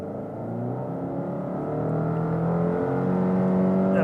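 A 2020 Subaru Legacy with full-time all-wheel drive accelerates hard toward 60 mph, its engine note droning and rising steadily from inside the cabin, loud and unbroken with no talking.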